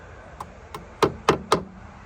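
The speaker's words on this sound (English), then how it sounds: "Tap it down, no problem." A metal hinge sleeve on a Jeep JKU door is tapped into place with two light taps followed by three sharper, louder knocks in an even rhythm, close up and without talk.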